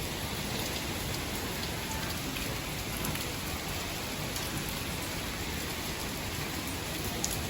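Heavy typhoon rain pours steadily during storm Uwan, an unbroken dense hiss of drops on surfaces, alone with no voices.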